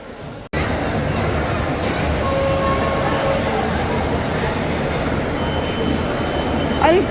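A children's ride-on toy train running in a busy shopping mall, a steady rolling rumble with faint whines and rattles under general crowd babble, close and continuous throughout.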